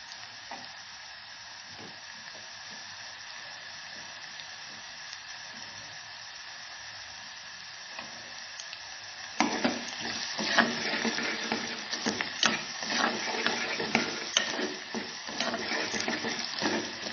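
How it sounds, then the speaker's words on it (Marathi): Onion sautéing in a pan, a soft steady sizzle that grows louder and busier partway through as stirring clatter joins in, close by with no talk. "छान गुलाबी कांदा परतून घ्यायचा आहे"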